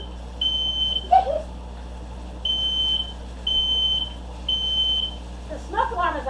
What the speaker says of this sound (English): Sensitive smoke alarm.